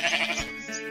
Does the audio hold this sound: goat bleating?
yes